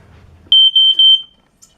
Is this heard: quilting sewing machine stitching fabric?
no